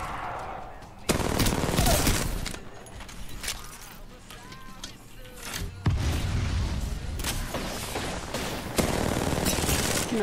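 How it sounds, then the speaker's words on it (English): Sustained gunfire in an Apex Legends battle-royale match, with dense rapid bursts of shots and impacts coming in loud waves that stop and restart, close and heavy, while a player talks over the shooting. "I'm getting shot in my side."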